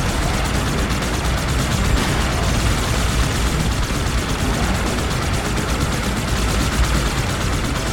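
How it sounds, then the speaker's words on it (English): Fuel rod cannons fire nonstop in a Halo 2 battle, a dense, loud barrage of overlapping blasts and explosions with no gaps. "that's a lot of fuel rod cannons all at once"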